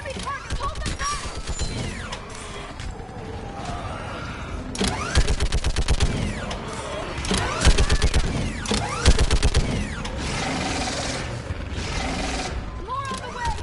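Gunfire in the sci-fi shooter Mass Effect 3, rapid clustered bursts of shots and mechanical clatter under shouting combat voices, loud and repeated across the battle.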